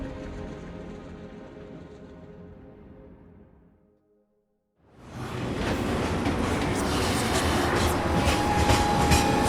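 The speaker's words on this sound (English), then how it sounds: "Like this train, I suppose. There's only one way it can go." A train runs on rails in Final Fantasy 7 Remake, first a rumbling, clattering ride that fades into near silence, then a loud, dense rush of wheels and carriage noise returning and holding steady to the end.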